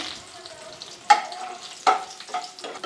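Cashews and raisins frying in ghee for a chow chow bath, with a soft low sizzle and a few sharp stirring clinks against the pan, close and fairly quiet.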